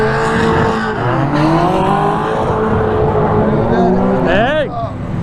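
A drift car at Myrtle Beach Speedway revs loud and close, its engine note rising and falling with a sharp sweeping squeal near the end, while people talk over it.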